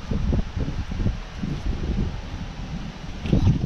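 Low rumbling gusts of wind buffet the microphone outdoors, steady and fairly loud, with faint rustling mixed in.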